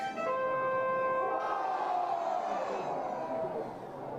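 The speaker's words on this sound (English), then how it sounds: "Still a lively crowd here at the ballpark." Lively crowd at a minor-league baseball ballpark, a continuous murmur and hum of spectators with a sustained tone fading out partway, steady and moderately loud with no talk.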